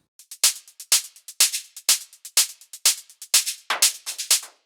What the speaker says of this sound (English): If I play all the drums together, it will sound like this.